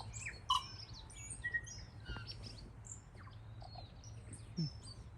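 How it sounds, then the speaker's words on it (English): Small birds chirp and tweet in short, scattered calls in a quiet outdoor setting in New Zealand, several brief high notes spread over a few seconds, faint and mid-distance. "Cool bird."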